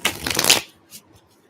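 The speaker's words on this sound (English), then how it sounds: "I get these cards nice and crispy shuffled." A quick riffle shuffle of tarot cards, a dense crisp flutter lasting about half a second, then a couple of soft taps and near silence.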